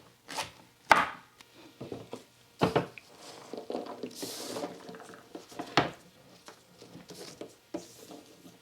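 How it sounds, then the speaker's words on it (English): Okra being chopped with a knife on a board: irregular, sharp thuds and taps, close and moderately loud, with softer scraping and squishy cutting between strikes and no talk. "I actually really like chopping vegetables."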